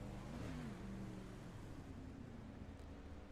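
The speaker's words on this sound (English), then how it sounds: "Car shuts off coming out of turn 2." A big block oval race car runs out of gas on track at Limaland. Its engine drones steadily, its pitch wavering and dipping briefly, heard from onboard at a moderate level.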